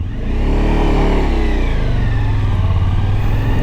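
Suzuki V-Strom 1050 DE motorcycle pulling away in first gear, its engine loud and close, revs climbing in a rising growl and then settling into a steady throbbing drone.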